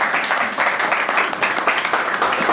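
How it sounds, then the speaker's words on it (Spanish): Loud, dense applause from a live audience at a band's album presentation at Espacio Moebius, a steady wash of many hands clapping at once with no voices rising above it. "pido un aplauso"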